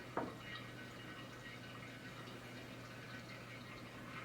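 Water drains out of a hose after rinsing winemaking gear, a faint, steady trickle with a small splash at the start.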